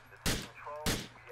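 Two sharp, loud gunshots ring out about half a second apart in Grand Theft Auto IV, with faint game ambience between them.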